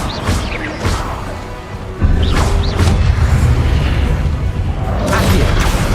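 Crashing, booming spell impacts from the Confringo blasting curse in the Hogwarts Legacy video game, loud and close, with a heavy burst around two seconds and clattering debris.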